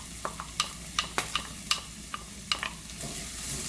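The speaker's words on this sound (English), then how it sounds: "Stirring for a few minutes." Chopped onions stirred in a hot pot for Jamaican pumpkin talkari, with a spoon giving a string of sharp scraping clicks over a low steady sizzle and no voices.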